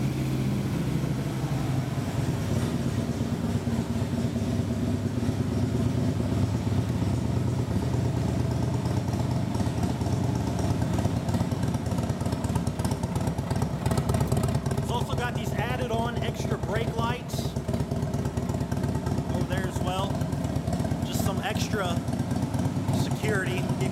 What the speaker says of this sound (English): Bike runs fantastic. Motor's nice and smooth, it's quiet.